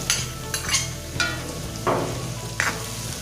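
Tomatoes sizzle and fry in a pan with onions, green chilli and ginger for a chicken curry, with a steady hiss broken by several sharp stirring scrapes of a spoon against the pan.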